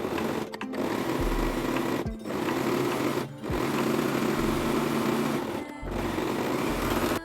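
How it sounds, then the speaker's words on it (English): Sewing machine or overlocker stitching the seams of a kimono jacket, a steady close mechanical whir running in several long bursts with brief pauses between them. "Finish the seams with an overlocker or zigzag stitch."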